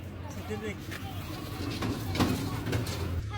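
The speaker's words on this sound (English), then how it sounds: "I have to show you guys the sheep parked right next to us." Sheep parked beside a market cart in rural Xinjiang bleat in short wavering cries, close by, while people talk over them.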